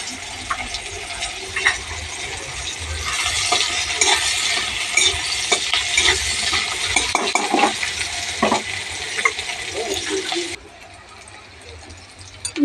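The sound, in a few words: frying panch phoron and onion in a pan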